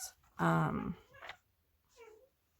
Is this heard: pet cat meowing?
yes